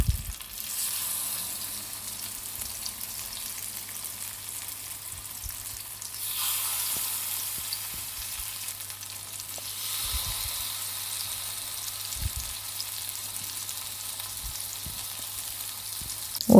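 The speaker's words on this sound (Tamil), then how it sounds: "ஆயில் வந்து ஹீட் ஆன பிறகு நம்ம ஃபிஷ் எல்லாத்தையும் வந்து சேர்த்து ஃப்ரை பண்ணிக்கலாம்" Pieces of shark fish frying in hot oil in a pan over a medium flame give a steady, close sizzle that holds throughout, with a few faint clinks and no talking.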